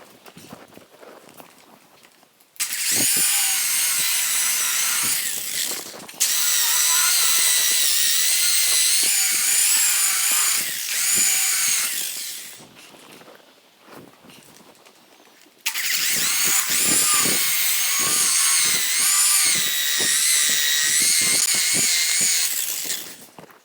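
A buffing wheel polishes the painted fender of a 1950 Chevy truck, a loud steady whine running in two long bursts separated by a quieter pause, with no talk.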